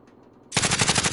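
Automatic gunfire in the video game Call of Duty Warzone, a sudden loud burst of rapid shots that starts after a brief quiet lead-in and continues to the end.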